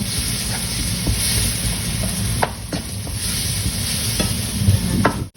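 Pounded chili and garlic sizzle steadily in hot oil in a wok for Thai basil pork, with a constant close frying hiss and occasional scraping stirs, no talking.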